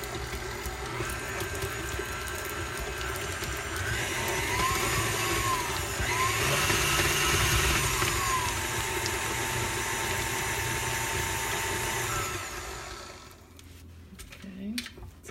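An electric stand mixer creaming shortening and butter together for buttercream, a steady loud motor whir with a faint rhythmic churn that runs for about twelve seconds, then winds down to quiet handling noises.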